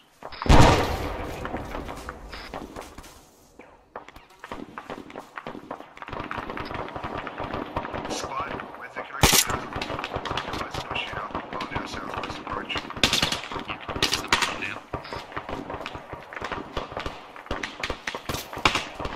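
Gunfire in the military shooter Arma 3, with dense rattling bursts of automatic fire and scattered single shots, some near and some distant, running steadily throughout with a few sharper loud cracks.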